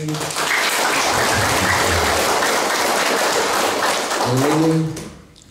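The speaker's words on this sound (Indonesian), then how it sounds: "Semua tepuk tangan dulu untuk Bapak datang" Applause from a gathering of veterans welcoming a visiting deputy governor, dense steady clapping lasting several seconds with voices mixed in, fading out at the end.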